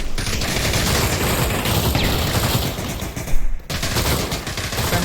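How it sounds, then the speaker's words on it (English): Dense, rapid gunfire in a VR shooter match, including an AK rifle, sustained loud bursts with a brief louder crack near the end. "Don shot it with an AK"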